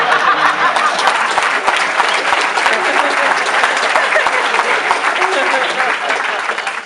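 A large audience at an International Yoga Day event in New York breaks into loud, sustained applause and cheering, a thick continuous roar of clapping that fades slightly at the end.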